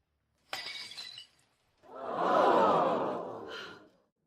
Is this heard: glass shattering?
yes